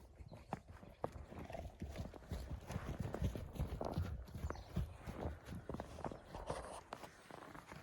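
Horse hooves clop repeatedly on hard ground, with snorts and a whinny from a nearby horse mixed into the steady movement; the horses include a 10-year-old bay purebred Vladimir heavy draft mare.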